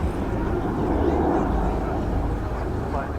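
Jet engines roar at an airshow at RAF Cosford: a de Havilland Goblin 35 in a Vampire and Rolls-Royce Derwent 5s in a Meteor, producing a loud, continuous, rumbling wash of sound.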